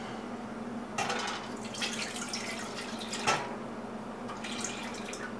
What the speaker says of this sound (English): put about a cup and a half of the milk